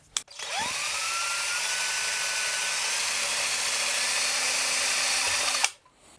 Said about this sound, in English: I should probably go through the other side as well and drill one on this end too